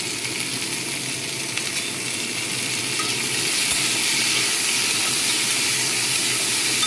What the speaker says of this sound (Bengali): অল্প লাল লাল করে চলো ভেজে নিই, তারপর ঠান্ডা করে মিক্সিতে দিয়ে দেবো।